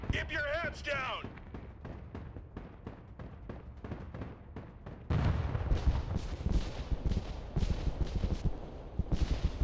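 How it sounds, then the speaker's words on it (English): Rocket barrage artillery strike in the game Broken Arrow: a rapid run of sharp, booming impacts that thickens into a louder, denser rumble of blasts halfway through, with a voice briefly heard at the start. "Rocket barrage incoming! Keep your heads down!"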